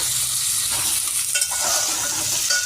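Potatoes frying in a pan for a Bengali home-cooked dish give off a steady, close hiss of sizzling oil with faint stirring underneath; nobody talks.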